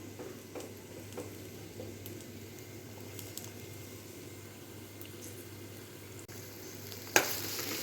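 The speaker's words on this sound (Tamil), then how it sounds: "வெங்காயத்தை போட்டு இப்போ நல்லா வதக்குறோம்." Onions sautéing in hot oil for chicken kurma make a steady, soft sizzle and hiss, with faint stirring scrapes and a sharper clink near the end.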